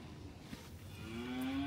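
Heifers awaiting loading for sale let out a drawn-out moo that swells near the end over faint farmyard background, fairly distant and quiet, with no talking.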